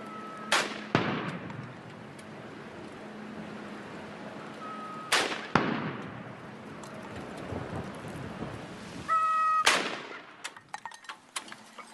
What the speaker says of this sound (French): les coups de canon reçus par Joe Biden lors de son inauguration